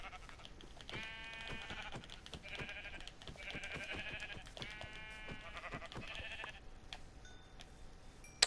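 Video game sheep bleat repeatedly, with a series of drawn-out wavering calls spaced across the stretch, fairly close, over light clicking and a sharp tick at the very end.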